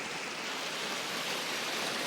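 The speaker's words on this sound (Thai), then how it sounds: "อันนี้เป็นน้ำตก สายใหญ่มาก" A large waterfall at Phrom Khiri pours with a steady, dense broadband rush. It is constant and enveloping, with no voices.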